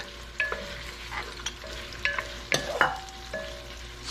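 Onion frying in a pan for pork chops in mushroom sauce, a low sizzle punctuated by repeated scraping and tapping of a utensil as it is stirred, close and without voices.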